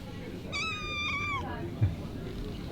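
A very small cat gives a single clear, drawn-out meow at a quiet spot on the Greek island of Kimolos, soft against faint background hum.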